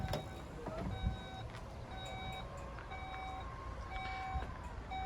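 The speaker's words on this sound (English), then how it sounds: "The power tailgate also works off the remote." Seat Alhambra's power tailgate works under a string of steady electronic warning beeps, clear repeated tones over a low mechanical hum from the car nearby.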